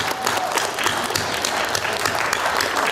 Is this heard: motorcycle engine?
no